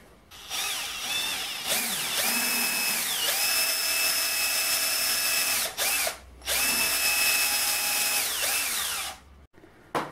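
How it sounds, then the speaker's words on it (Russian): A power drill whirs loudly through a pen in two long bursts, its pitch dipping and steadying as it bores, with a short pause between runs and a click at the end. "Теперь берем нашу ручку и тоже сверлим отверстие."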